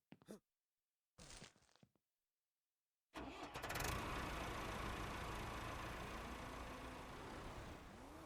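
A tractor engine in the Ranch Simulator video game, with a couple of short mechanical clunks and a brief cranking, then a pause before it fires up and settles into a steady, loud running drone.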